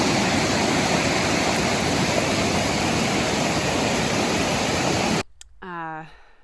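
Steady, loud roar of the Lace Falls waterfall fills most of the clip with broadband rushing water, then cuts off abruptly near the end, followed by a short burst of speech.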